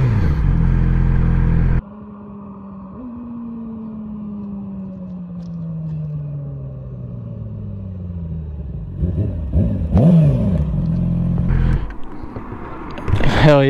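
A sport motorcycle, one of a GSXR 1000, R6 or Ninja 400 group, revs and accelerates nearby during a wheelie, its engine note falling away then roaring back up with rising, clattering revs.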